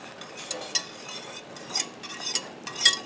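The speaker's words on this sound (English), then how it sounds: "Go ahead and stir it down again" Homemade queso thickened with xanthan gum is stirred in a bubbling pot, giving soft, irregular scrapes and light clinks of the utensil against the pot, fairly quiet and close, with no talking.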